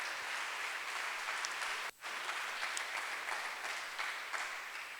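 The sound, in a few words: congregation applause in church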